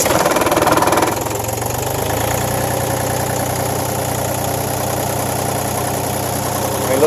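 An Iseki TU180F 4x4 compact tractor's diesel engine turns over and then settles into a steady, loud, rumbling idle that holds evenly without a break.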